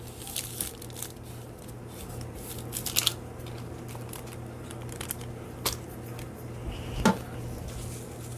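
Scissors snip a paper window envelope during an upcycling craft: a few faint, scattered cuts and crisp paper crinkles over a constant low background hum, with no talking.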